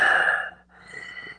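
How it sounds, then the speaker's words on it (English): A dog lying at someone's feet gives a long snorting breath, then a softer rasping snore, close and quiet with nothing else audible. "His dog is snoring at his feet throughout the entire show."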